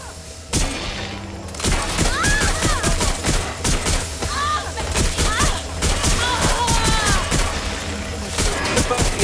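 Gunfire rattles in the video game Watch Dogs Legion as loud bursts of rapid shots that continue almost without a break, mixed with game effects and clipped voice lines.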